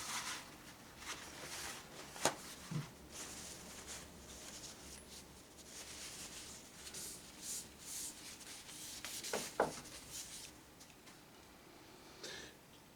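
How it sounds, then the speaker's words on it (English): A palette knife scrapes paint off a palette in a quiet, close series of soft rasping strokes, with a few sharper taps and clicks in between. "before I go further, scrape off the palette again."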